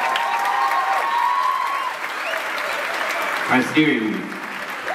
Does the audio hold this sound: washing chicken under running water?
no